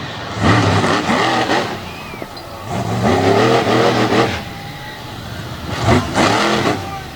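A monster truck engine revs hard during a freestyle run at a 2021 North vs South event in Front Royal, with loud rising and falling bursts that pulse in several waves.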